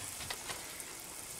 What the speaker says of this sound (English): got some plantain frying there